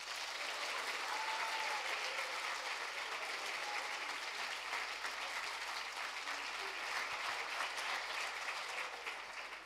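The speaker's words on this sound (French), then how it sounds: "je veux un tonnerre d'applaudissements pour les 18 participants" Sustained, dense applause from an audience at the final of a student eloquence contest, a steady wash of many hands clapping together at an even level for nearly ten seconds, with no talk over it.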